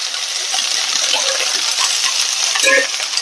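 Washed cauliflower sautéing in a pan while cooking cauliflower poriyal, giving a steady, close, dense sizzle with faint scraping stirs and a brief louder flare near the end.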